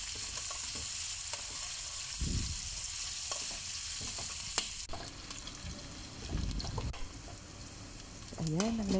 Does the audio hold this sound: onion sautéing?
yes